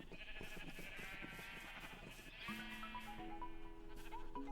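Sheep bleat in the video game Minecraft, a few wavering bleats rising out of a steady blend of game music and ambience, fairly faint and with no talking.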